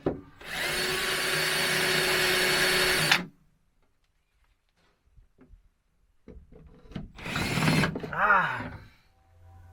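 A power drill bores into metal, whining loudly for about three seconds before stopping, then after a quiet pause it starts again briefly and grinds as the bit bites, with clattering handling noises around it.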